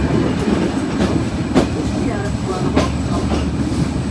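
A train pulls out of Alamdanga railway station in Bangladesh, the steady loud rumble heard from on board with rhythmic wheel clacks over rail joints and a voice speaking over it.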